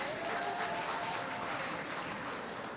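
An audience claps at a solidarity day gathering before a lunch break, a dense, continuous wash of applause for a few seconds.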